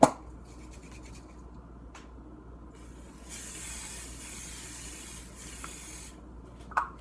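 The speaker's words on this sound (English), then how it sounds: "a baking pan, which we are going to grease with our butter spray" Butter cooking spray hisses from an aerosol can in a steady burst for about three seconds, greasing a baking pan, close and fairly quiet, bracketed by faint clicks and light handling noises.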